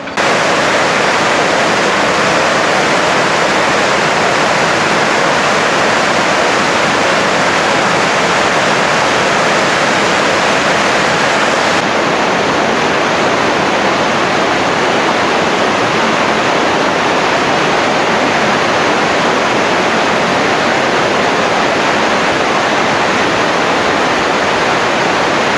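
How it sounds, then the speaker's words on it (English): A Panama forest waterfall roars steadily and loudly from nearby as a dense, unbroken wash of falling water, with no voices. "up there is what looks like a spectacular waterfall"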